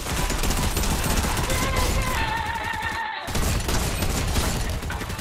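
Gunfire rips out in rapid, dense bursts, loud and close, broken by a brief pause before the volley resumes.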